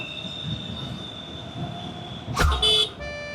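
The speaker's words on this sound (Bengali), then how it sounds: "এই যে দেখো মেট্রো যাচ্ছে ওপর দিয়ে।" Metro train passing overhead on an elevated track, a brief loud burst of rumble and squealing wheels after a quiet stretch of ambient noise with a steady whine.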